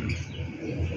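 A brief, low, soft zebra dove coo, heard close up in a quiet setting.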